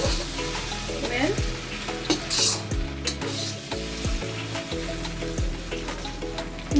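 Steamed, dried noodles for egg chowmein being stir-fried in a pan, a loud close sizzle with rhythmic scraping and tossing strokes of the utensil against the metal.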